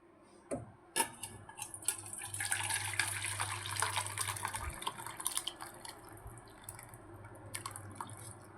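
Mutton curry broth pours steadily into a pot for several seconds, a soft continuous splashing with a few light clinks at the start.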